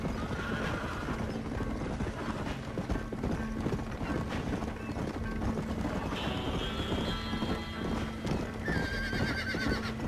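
Horse neighing and whinnying with clip-clopping hooves in the Red Dead Redemption video game, a continuous layer of game sound effects with repeated high whinnies toward the end.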